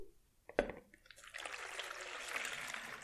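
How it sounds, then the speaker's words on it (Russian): Water is poured into a tall container as the first step of a homemade fabric softener mix. A knock is followed by a steady, fairly quiet pouring rush that builds as the vessel fills. "Заливаем воду."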